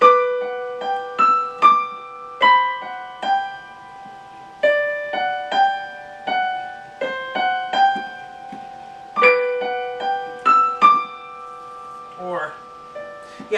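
Piano notes ring out in a gentle, unhurried melody from an arrangement of Silent Night, each note struck clearly and decaying, with brief pauses between phrases and no voices.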